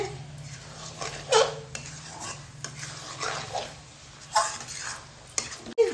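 A spoon stirring fried potatoes and cauliflower with tomato in a pan, soft scraping strokes and occasional light knocks over a quiet sizzle.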